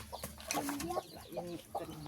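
Chickens being caught, clucking and squawking in short agitated bursts close by, with a few brief rustles between calls.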